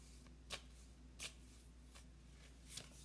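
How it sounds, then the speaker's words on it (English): Flower message cards are shuffled by hand, three or four brisk riffling bursts spaced about a second apart, close and quiet with no talking. "I'm going to just shuffle and put them down face down first."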